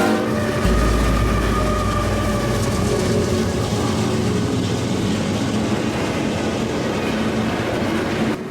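Eastbound intermodal freight train passing close by, a loud steady roar of rolling wagons and wheel noise with a deep low rumble throughout, continuous from start to finish.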